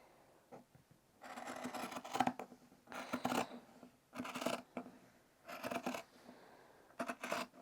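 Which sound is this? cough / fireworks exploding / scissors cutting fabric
scissors cutting fabric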